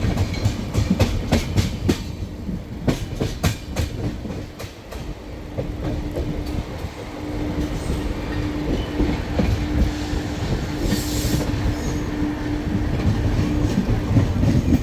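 A passenger train runs along the rails near Palakkad in Kerala, its steady rumble and rhythmic clickety-clack of wheels over rail joints continuous and close throughout, with no voices.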